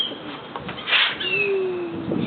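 Pigeons being fed outdoors, giving faint soft coos and a thin drawn-out call over a low background hiss, with a brief rustle in the middle.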